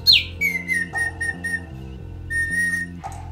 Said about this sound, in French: On pompe de l'air ambiant extérieur dans un réservoir et ensuite on expulse l'air dans un sifflet